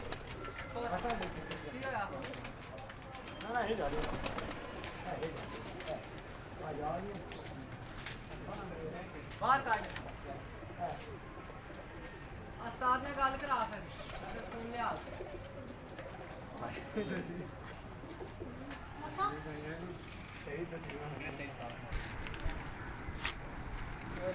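Pigeons on a rooftop in Rawalpindi coo repeatedly in soft throaty rolls, a flock calling near and far while someone talks over them and light movement sounds drift in.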